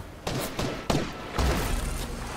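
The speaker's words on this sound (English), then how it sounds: "Who shot me?" Gunshots ring out in Fortnite, three sharp separate cracks followed by a denser burst of fire, loud and close.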